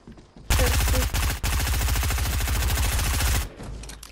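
Rapid bursts of video-game gunfire from Fortnite weapons, pistols and a pump shotgun, rattle loud and close in a sustained volley lasting about three seconds, with a brief break partway through before stopping abruptly.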